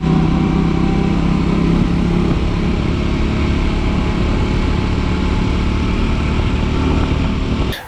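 A Triumph Scrambler 400X motorcycle rides through a single lane change test, its engine droning loud and steady under strong wind rush for the whole stretch.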